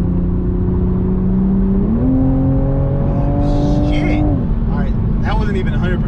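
Toyota A90 Supra engine accelerating from inside the cabin, a steady droning note that steps up in pitch midway and then drops back, under continuous loud road noise with a voice speaking near the end.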